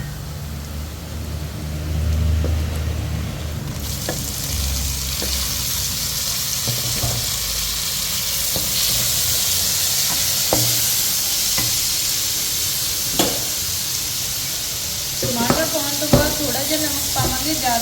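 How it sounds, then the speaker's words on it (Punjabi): Onion, Kashmiri red chili powder and tomatoes fry and sizzle in a pan with occasional stirring and clinks, a steady close hiss throughout. "ਪਿਆਜ਼ ਲਾਈਟ ਬ੍ਰਾਊਨ ਹੋ ਗਿਆ ਹੁਣ ਇਹਦੇ ਵਿੱਚ ਥੋੜਾ ਜਿਹਾ ਕਸ਼ਮੀਰੀ ਲਾਲ ਮਿਰਚ ਪਾਊਡਰ ਜਿਹੜੀ ਆਪਾਂ ਐਡ ਕਰਾਂਗੇ ਨਾਲ ਹੀ ਹੁਣ ਐਡ ਕਰਾ ਦੇਵਾਂਗੇ ਜੀ ਟਮਾਟਰ"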